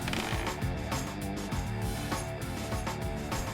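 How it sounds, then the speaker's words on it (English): A 5mm hex tool loosens corroded crank pinch bolts on a Trek Domane road bike, giving a dense run of ratcheting metallic clicks throughout, close and fairly loud. "So we're going to take this 5mm and loosen very carefully."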